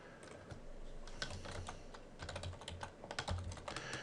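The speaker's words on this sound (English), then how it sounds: "I'm literally typing the command foremost and the name of the image" Rapid, irregular keystrokes on a computer keyboard as a command is typed at a desk, with clustered bursts of clicks and brief pauses, close and quiet with no talking.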